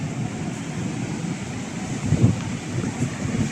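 Wind and surf at Sine Beach near Tulungagung, East Java, at night during camping, a steady blustery rumble buffeting the microphone with waves washing faintly underneath and a slight swell near the middle.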